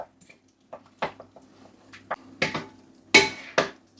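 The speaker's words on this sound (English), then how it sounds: "I'm going to mix that around thoroughly" Cooked tinned potatoes and onion being stirred into beaten egg in a bowl for a Spanish tortilla: a handful of irregular, close clinks and scrapes of a utensil against the bowl, with quiet gaps between and no talking.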